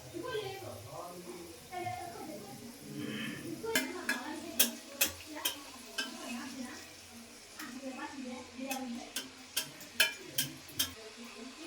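Egg puri frying in hot oil, a steady low sizzle under a voice, with a run of sharp clinks and taps from a utensil against the pan in the second half.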